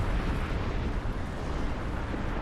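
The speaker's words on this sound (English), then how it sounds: "I think you can even see my little explosion of my ship there." A starship blows up in the space combat game Star Trek Online, giving a dense, sustained rumbling explosion roar that stays loud and steady throughout, with no talk over it.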